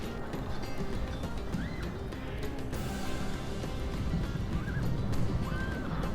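Cavalry horses neigh and whinny during a Rome Total War online battle between Parthia and Macedon, several rising calls over a busy, rumbling field of hooves and battle noise.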